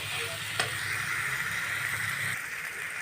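Potatoes and jackfruit seeds fry with spices in a pan, giving a steady, close hiss of sizzling oil with a soft stir and a single sharp tap, no talk over it.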